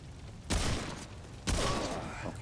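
Gunfire aimed at an enemy in the video game Remnant 2: two loud bursts of shots, the first at about half a second and the second about a second later, each trailing off into a lingering rumble.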